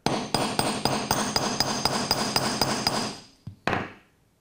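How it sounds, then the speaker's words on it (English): Sharp metallic hammer taps on wire curves in a steady rhythm, about a dozen close strikes ringing on a hard bench block, then a pause and two final blows. "hammer the curves, that makes it much stronger"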